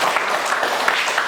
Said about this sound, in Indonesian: ya tepuk tangan semua dulu